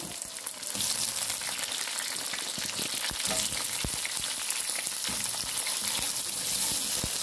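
Cut potatoes sizzle steadily in hot spice masala in a pan, with occasional stirring scrapes, as the aloo palak cooks up close.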